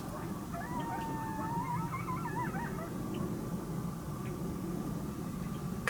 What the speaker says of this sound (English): Coyotes just started howling,